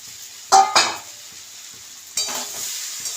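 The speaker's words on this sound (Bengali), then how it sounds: "আমি এটার সাথে ভালো করে নাড়বো" Fried soya chunks being stirred in a sizzling pan, with two sharp scraping strokes early on and another burst of stirring later over a steady background hiss.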